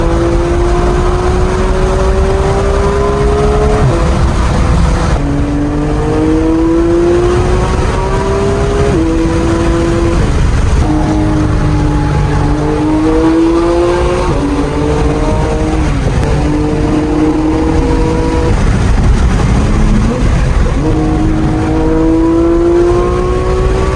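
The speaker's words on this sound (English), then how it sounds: "Driving the Porsche 911 GT3 we have over here." A 2015 Porsche 911 GT3 engine drives a highway through Pennsylvania and Ohio, droning steadily and loudly and climbing in pitch again and again as it pulls through the gears, with no talking.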